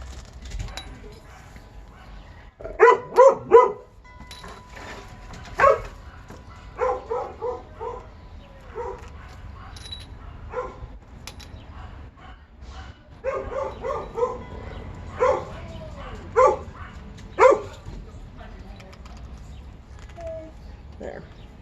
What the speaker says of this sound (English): Dogs barking, kids yelling.